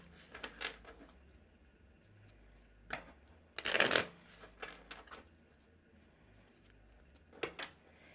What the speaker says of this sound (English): Even right now as I'm shuffling